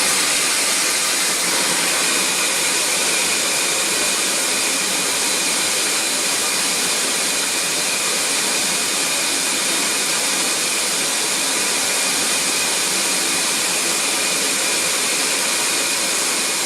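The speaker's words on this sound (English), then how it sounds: "now I'm going to jump up and turn the other motor on and do a 2 motor reading" A CamVac CGV286 workshop dust extractor runs with both motors on, a loud, steady, broadband roar and hiss with a faint high whine, unchanging and close, with no talking.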